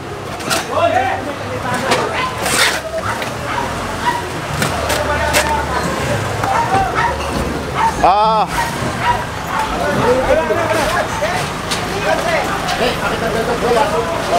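A dog barks and yips repeatedly in a busy Manila street, its calls scattered through steady traffic and vehicle noise while people talk throughout.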